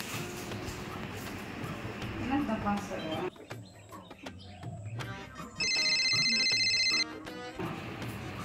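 A ringback tone on an outgoing phone call sounds as one steady electronic burst of about a second and a half, following outdoor ambience with birds and a rooster in the background.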